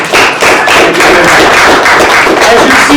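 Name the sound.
audience applause at a real estate meeting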